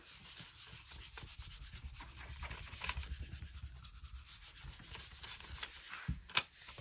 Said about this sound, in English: And you rub that into the plate.